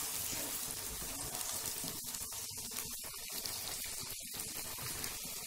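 Onions frying in hot oil for chicken korma make a soft, continuous crackling sizzle with a few brief pops, fairly quiet and close, with no voices.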